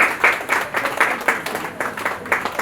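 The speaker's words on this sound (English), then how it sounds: "A round of applause." Applause from an audience at a coconut value chain lecture in Lagos State, a short burst of scattered, uneven clapping at moderate volume, with no voices over it.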